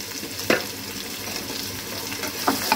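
Dried red chillies, whole cumin and a bay leaf fry in hot oil, giving a soft steady sizzle with a few sharp crackles and spatters popping up near the start and end.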